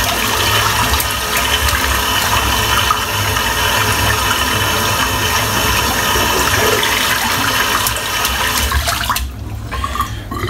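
Water runs steadily from a tap while soap is rinsed from a shaving brush, a loud, even rushing that continues for most of the clip and drops off near the end.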